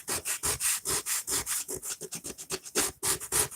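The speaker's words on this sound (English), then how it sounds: "And let's just get this sanded." Sandpaper rubbed back and forth across a wooden bathroom cabinet, giving a rapid, even rhythm of close, scratchy strokes, about fifteen passes with no voices.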